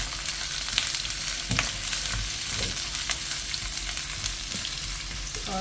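Onions and a few pandan leaves sauté in a pan for nasi lemak, a steady close sizzle with occasional scraping stirs and no talking.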